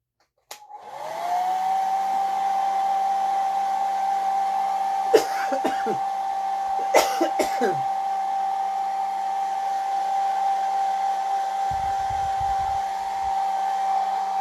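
A hair dryer runs steadily close by on a dog, a continuous high whine with a low hum beneath, broken by a few short bursts of noise.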